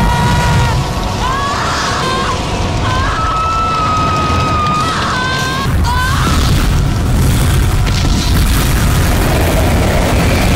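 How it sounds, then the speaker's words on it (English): A nuclear bomb blast in a movie dream sequence roars as a loud, sustained rumbling wall of destruction, with wailing tones over the top early on and no letup. "In this dream sequence, Sarah Connor witnesses mind-numbing destruction as a nuclear bomb takes out everything she knows and loves."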